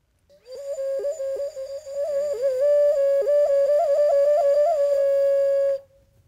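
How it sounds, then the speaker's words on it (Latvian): A toy whistle blows a long, warbling tone that wavers up and down in pitch for about five seconds before stopping. "Man ir svilpaunieks."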